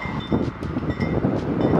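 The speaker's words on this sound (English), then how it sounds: "We got a train over there too." A train passes at a distance in Chicago, a steady rumbling roar with faint rhythmic swells, moderately loud with no talk.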